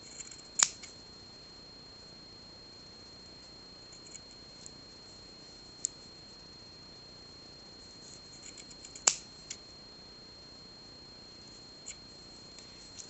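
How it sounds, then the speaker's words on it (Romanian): Scissors snipping through yarn while trimming a pompom on a crocheted Santa Claus ornament, a few sharp, close snips spaced far apart over faint background hiss. "Acum cu foarfecul vom tăia"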